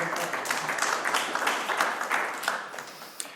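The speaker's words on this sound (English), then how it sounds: "so I ask for your applause." Audience applause at a conference session, a dense patter of many hands clapping at moderate loudness, with a few sharper individual claps standing out near the end.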